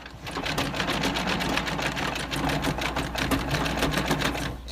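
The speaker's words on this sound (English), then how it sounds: "And then I stitch that down all the way around." A sewing machine stitches fabric for a seed storage bag, its needle chattering in a rapid, even rhythm close up for the whole stretch, with no talking.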